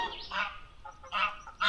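Geese honk in the Cairngorms, three short nasal calls spaced a moment apart, moderately near against a quiet background.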